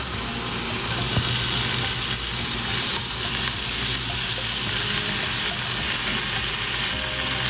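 Potato slices cook in a pan with a dense, steady sizzle that fills the whole stretch, close and fairly loud, with faint stirring movements under it and no talk.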